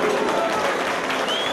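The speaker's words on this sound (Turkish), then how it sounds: "Ondan önce bir kocaman alkış almak istiyorum." Audience applause at a BOZCADER 20th-anniversary event, ahead of a performance of Toprak folk songs: steady, dense clapping that fills the whole stretch at an even level, with some crowd noise mixed in.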